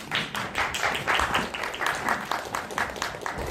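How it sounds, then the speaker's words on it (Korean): An audience welcomes a film director and actors at a film talk event with a steady round of applause, moderately quiet and continuous throughout. "박수로 환영해 주세요."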